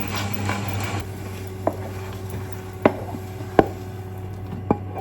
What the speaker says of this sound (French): Pour avoir des œufs brouillés homogènes et super bons et comme dans les hôtels, c'est de constamment mélanger.